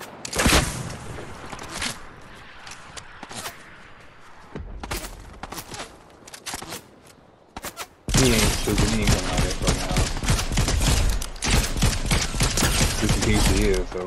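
Rapid bursts of gunfire during a Fortnite squad match, quieter scattered shots early then a loud, dense volley of repeated shots, with players talking over the action.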